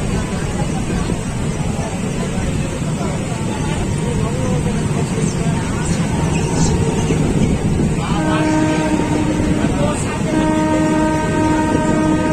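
A passenger train heading to Ayodhya station rumbles loudly and continuously. Near the end a long horn sounds twice, with a brief gap between the blasts.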